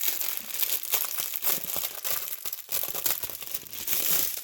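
Plastic packets of diamond painting diamonds being opened, a busy run of crinkling and tearing rustles in close, irregular bursts with no talking.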